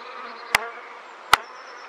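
Honey bees buzzing steadily at an opened top bar hive, a continuous close drone with two sharp clicks from hive tools or spraying.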